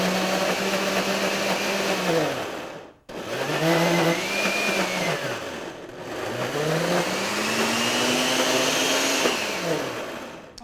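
A food processor blends hummus in two loud, steady motor runs separated by a brief stop near three seconds. The pitch of its whine sags and rises as the load changes.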